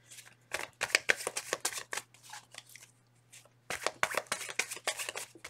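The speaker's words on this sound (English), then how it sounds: "Two more shuffles." A deck of tarot cards is shuffled by hand in two rapid bursts of crisp riffling and snapping, close and clear with a low steady hum beneath and a brief pause between.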